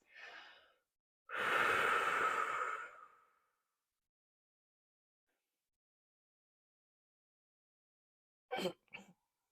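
Steady breathing during a yoga tabletop pose: a short inhale, then a long audible exhale like a sigh, a stretch of silence, and two quick breaths at the end.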